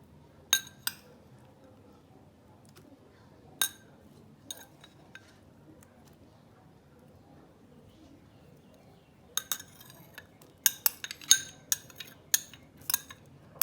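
A spoon clinks against a bowl while seasonings go in for Jamaican saltfish fritters: scattered sharp metallic taps early on, then a quick cluster of close, bright clinks near the end, with quiet between.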